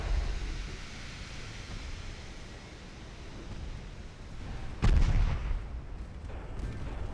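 Naval gunfire in the warship video game Ultimate Admiral Dreadnoughts: a rumbling wash of battle noise with one sudden heavy boom midway that decays into a rolling roar.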